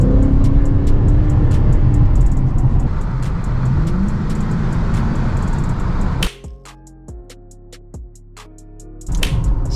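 A car exhaust with a mid-muffler delete and Dynamax race bullets rumbles loudly, then drops to a lighter idle with sharp clicks and pops before the engine noise swells again.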